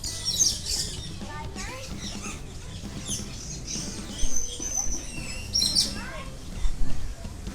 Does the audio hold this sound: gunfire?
no